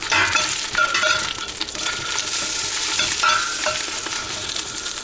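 Onion sizzling in a very hot pot of broth base, a loud, steady, crackling hiss with spoon stirs and scrapes heard close by.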